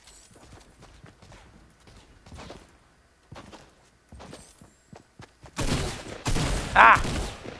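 Gunfire in the Fortnite video game, first as scattered light pops and thuds, then a loud close volley of rapid shots near the end, with no talk.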